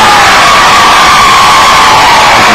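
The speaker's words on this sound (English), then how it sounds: "you can hear the crowd behind us" A loud basketball crowd cheers and roars steadily after a three-pointer at a Scott vs Sissonville high school game, a dense wall of voices and whoops lasting throughout.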